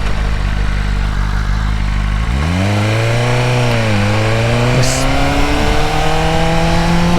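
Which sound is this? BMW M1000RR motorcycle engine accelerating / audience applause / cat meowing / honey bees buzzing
BMW M1000RR motorcycle engine accelerating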